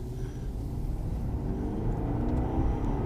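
A manual, rear-wheel-drive Chevrolet SS with an LS3 V8 accelerating, heard from inside as a deep, steady rumble that builds gradually and stays fairly subdued.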